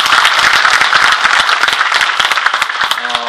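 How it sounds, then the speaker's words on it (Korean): Audience claps at an academic lecture, loud, close, separate hand claps in a quick irregular patter that thins toward the end, where a brief tone sounds. "자, 이 시점에서 박수 한번 주시면 좋겠습니다."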